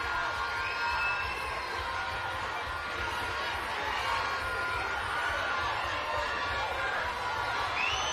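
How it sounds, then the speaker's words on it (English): A dense, steady roar of cheering and shouting fills a swimming venue during a race at the 2023 Bahamas Games, with scattered whoops rising over the constant crowd noise. "And the crowd is getting wild."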